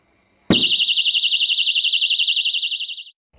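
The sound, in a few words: audible security alarm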